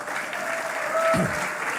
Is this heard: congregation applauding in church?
yes